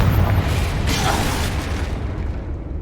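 A Confringo spell explosion in Hogwarts Legacy, a loud, close booming blast with heavy low rumble that fades out over a couple of seconds.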